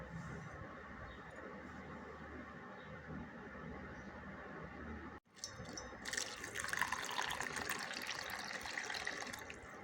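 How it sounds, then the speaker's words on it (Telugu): Water pours into a bowl of flattened rice (poha) set to soak, a steady close splashing wash that grows louder and fuller partway through. "అటుకులు వాటర్లో నానబెట్టాలండి."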